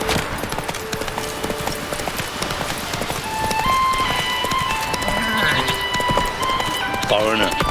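Roach the horse gallops in The Witcher 3, rhythmic hoofbeats running steadily under game music and ambient tones, with a brief whinny-like call near the end.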